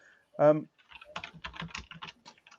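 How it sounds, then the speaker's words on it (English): Computer keyboard typing taps out in quick, uneven clusters of clicks, close and fairly clear, following a brief vocal sound at the start. "now I can just hear him typing, which is quite exciting"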